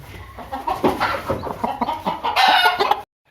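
Aseel chickens clucking in a busy, overlapping chorus, with repeated short calls close by for about three seconds before it cuts off.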